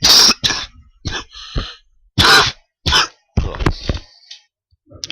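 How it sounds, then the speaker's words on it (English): Several harsh, loud coughs in separate bursts, close to the microphone, with short silent gaps and a little throat clearing between them, during an NHL 15 hockey game session. "I got a cough."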